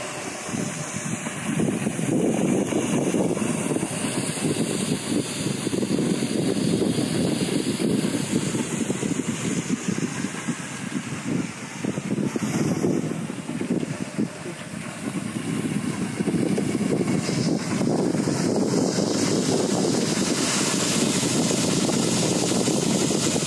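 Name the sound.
wind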